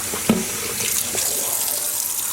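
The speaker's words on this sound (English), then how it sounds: "I'm going to keep rinsing, and I'll come back when the water starts to run clear" Tap water running steadily into a sink while cotton yarn dyed with Rit liquid dye is rinsed, a continuous close splashing rush with a small clunk near the start.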